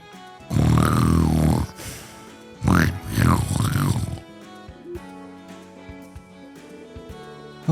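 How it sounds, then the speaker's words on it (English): A woman snoring loudly in the video game Trails from Zero, two long rumbling snores, each with a rising, wavering tone, close and forceful, then a quieter background of game music. "Wow, that's the loudest snoring I've ever heard."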